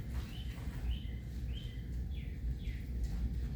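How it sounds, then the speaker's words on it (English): Birds chirp faintly about five times at an even pace over a low background rumble. "It's nice to hear birds."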